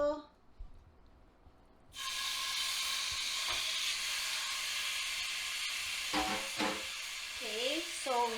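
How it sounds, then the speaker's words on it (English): Ground beef drops into a hot frying pan and sizzles loudly and steadily, a dense hiss that fills the space while a few brief clinks and a short voice come through near the end. "So once the pan is hot, then we can put our ground beef here."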